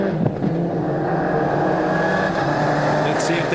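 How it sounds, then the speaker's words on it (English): Rally car racing down to the stage finish line on damp roads at Rally Whangarei in the 2010 New Zealand Rally Championship, a sustained engine drone at close range with shifting revs. "Coming down to the line for Chris West."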